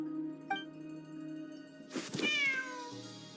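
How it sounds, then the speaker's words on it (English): A cat meows in the Genshin Impact video game, one drawn-out meow with a sliding pitch after a short earlier chirp. Steady background game music plays underneath and no one speaks. "There's a good kitty."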